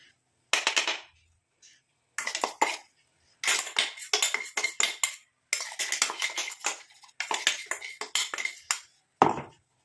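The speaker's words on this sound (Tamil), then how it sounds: "நாங்கள் இந்த ஸ்பூன் வச்சு இப்படி சைடில் உள்ளதெல்லாம் எடுத்து விட்டுக்கலாம்" A spoon scrapes homemade natural hair-dye paste from the sides of a container, giving bursts of clinking and scraping strokes in irregular clusters with short pauses, close and fairly clear.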